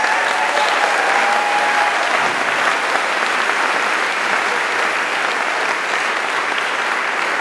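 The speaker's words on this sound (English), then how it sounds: "Let's give them a round of applause for that." Loud, sustained applause from a large audience at a gubernatorial candidates' forum on human services, a dense continuous roar of clapping filling the room from start to finish.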